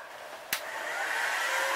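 A Saito model engine case is heated before a front bearing is pressed in. A sharp click starts a steady blowing hiss that grows slightly louder and continues alone.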